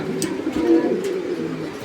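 Soft, low cooing of Lahori pigeons rolls on steadily at close range, a murmuring throaty drone with faint background noise and no talking.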